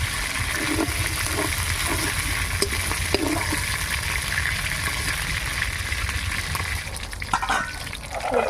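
Fish and spiced lentil dumplings frying in hot oil, with a continuous close crackling sizzle, some bubbling and occasional clinks of utensils throughout.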